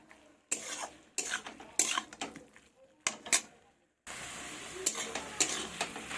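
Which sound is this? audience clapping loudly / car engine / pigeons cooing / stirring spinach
stirring spinach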